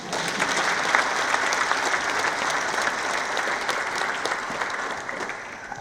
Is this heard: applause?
yes